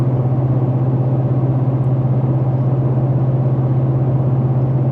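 A Ford F150 with the 5.0 Coyote V8 and a custom Borla exhaust cruises at highway speed, around 65 to 70 mph, producing a loud, steady low exhaust drone with a constant rumble and road noise and no change in pitch.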